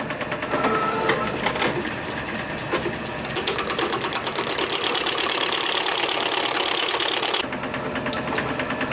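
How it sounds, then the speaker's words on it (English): A metal lathe turns a wooden part held in a collet with a centre supporting the far end, a loud, steady mechanical whir with a rapid rhythmic rattle that drops in level near the end. "So of course the big issue on turning wood with a metal lathe"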